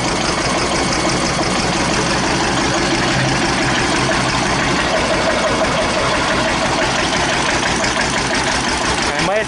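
A 1941 Witte single-cylinder diesel engine driving a Dieselectric generating plant runs steadily at idle, a loud continuous low throb with mechanical clatter that holds throughout with no break.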